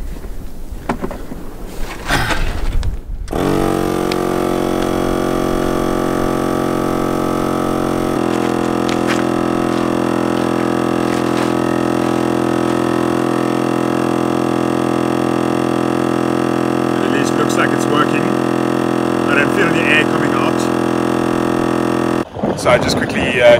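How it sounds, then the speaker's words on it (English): A portable pump reinflates a plugged flat car tyre on a Namibian road trip, giving a steady, close, droning motor hum that runs for about twenty seconds before cutting off, with a brief voice at the start. "then I will pump the tire up"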